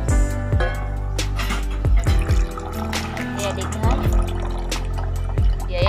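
Coconut water poured from a freshly cut coconut, a close bubbling, glugging trickle with repeated dripping splashes, loud and continuous with brief pauses.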